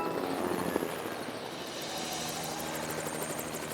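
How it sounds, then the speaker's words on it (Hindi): A cartoon helicopter flies in a Morphle children's animation, its rotor giving a steady, close, continuous chop and engine drone throughout, with no talk. "अब एक हेलीकॉप्टर में बदल जाओ।"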